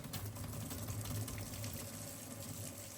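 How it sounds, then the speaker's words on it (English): Hot water runs steadily from a tap, a dense, even rushing gush with a low rumble underneath, close and continuous, with no voices. "once the water is flowing out consistently on the hot side of the tap"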